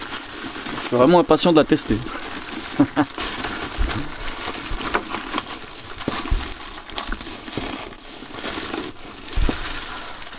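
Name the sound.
unpacking parcel with battery spot welder, crinkling packaging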